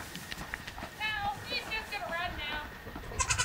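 A baby goat on a horse farm bleats several short, wavering cries during feeding, close and fairly faint, with soft shuffling and a voice talking around it.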